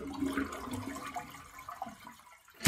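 A household toilet with a buzzing fault is flushed, giving a faint, low swirl of draining water that fades and ends with a short, sharper burst.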